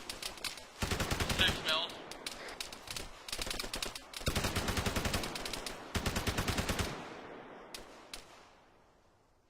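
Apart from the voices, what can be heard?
gunfire in a military video game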